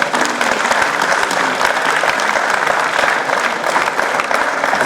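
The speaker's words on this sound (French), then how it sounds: "je vais vous demander de les applaudir" A crowd at a street-naming inauguration in the Busserine neighbourhood applauds steadily and loudly for several seconds, dense clapping filling the air without pause.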